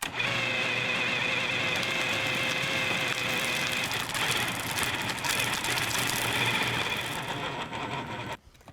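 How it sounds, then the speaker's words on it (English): A food processor runs steadily and loudly for several seconds, whirring and grinding as it whips and blends kibbeh meat with ice, then stops near the end. "we're going to be sort of whipping it and blending it even more"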